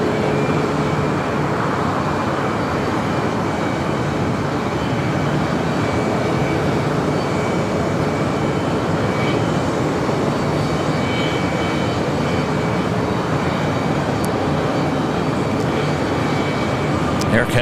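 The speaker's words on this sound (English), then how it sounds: "Air Canada 737 MAX 8 now rolling down 25 right" An Air Canada Boeing 737 MAX 8 takes off from LAX, a loud steady engine roar that fills the whole span without easing, with a faint voice somewhere beneath it.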